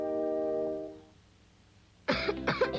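A sustained tone fades out, and after a brief quiet a pair of sharp, close coughs follows.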